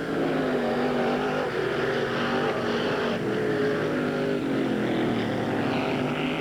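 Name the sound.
stock cars racing on dirt track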